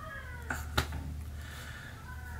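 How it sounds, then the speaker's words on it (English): A house cat meows once or twice in a room, brief tonal cries standing out over a low steady hum, fairly close but not loud. "That's my cat."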